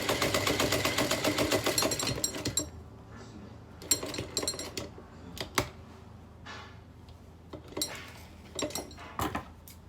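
Rapid mechanical chatter of a sewing machine stitching a satin ruffle hair bonnet, a dense burst followed by short intermittent runs and clinks, close and moderately loud, with no talk.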